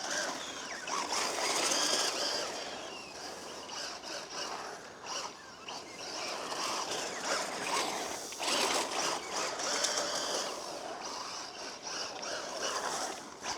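A Rlaarlo XTS F10 V3 RC rally car blasting over slippery leaves, with a constant rustling, crunching wash and a high motor whine that swells and fades as it zips around corners at middle distance.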